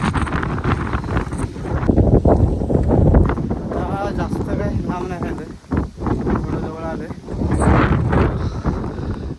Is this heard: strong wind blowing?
yes